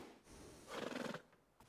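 A horse in the Red Dead Redemption II video game gives one brief, quavering whinny at moderate level over a low game background, ending abruptly.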